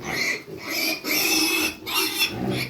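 Pigs grunt and squeal in a farmyard pen, three long, harsh, noisy bursts close by with brief gaps between them.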